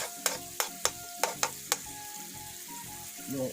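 Garlic sautéing in a pan for ginataang isda, with a soft sizzle broken by six sharp clinks of a spatula against the pan at the start, followed by quieter frying with faint bits of music in the background.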